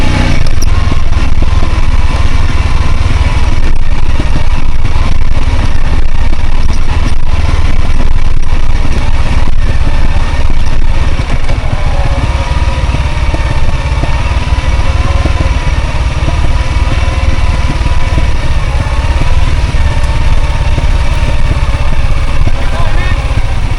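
Motorcycle in first gear climbing a steep, rough rural road near the Laos-Vietnam border, its engine droning loud and continuous with wind buffeting, while people talk over it.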